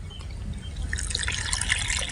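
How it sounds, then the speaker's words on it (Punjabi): Irrigation water runs and trickles into a wheat field, a close, continuous gurgling with small drips and splashes that grow slightly livelier as it goes, with no talking. "ਆਵਾਜ਼ ਆ ਰਹੀ ਤੈਨੂੰ ਪਾਣੀ ਦੀ?"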